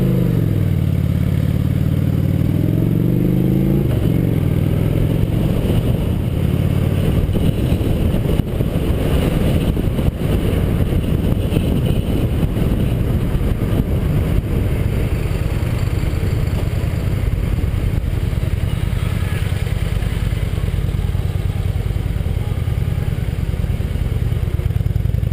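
A Honda VT750S motorcycle weighing 238 kilos drones steadily while being ridden at low speed, a continuous engine rumble mixed with road and wind noise and no talk.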